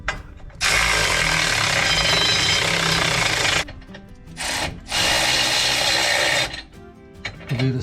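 A power tool drives the 3/4 skid plate bolts on a Jeep Gladiator differential skid plate, loud and close, in two long sustained bursts separated by a short spurt and brief pauses.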